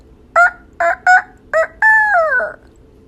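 A human voice imitating a rooster crowing, four short clucking bursts followed by a longer drawn-out crow that slides downward, loud and close with no other sound.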